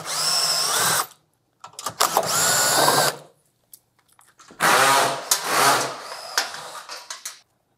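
A power tool whirs in several bursts, each a couple of seconds long with short pauses between, while it removes the mounting brackets that hold a PHCbi VIP ECO ultra-low freezer to its shipping skid.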